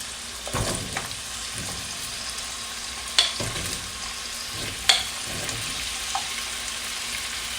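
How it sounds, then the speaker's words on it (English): Potatoes frying in a pan for beef caldereta give off a steady soft sizzle, broken by a few stirring scrapes and light clinks of a utensil against the pan, close by with no voices. "let's cook the potato first. Let's fry a little bit so that it's not gonna be mushy"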